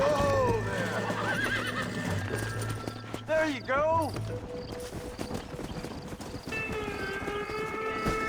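Horses in the Western game Red Dead Redemption whinny in rising, wavering cries over quick clip-clopping hooves, close and loud, with a low rumble beneath and people talking over the scene.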